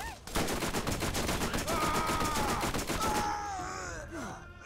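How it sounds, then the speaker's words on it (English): Rapid gunfire from a gun in Borderlands, a dense string of loud shots that fills the first three seconds, then trails into game tones and effects. "Shoot the gun."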